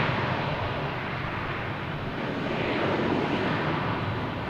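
JetBlue Airbus A220 airliner bound for JFK at Boston Logan Airport, a soft, distant jet rumble that swells slightly toward the end.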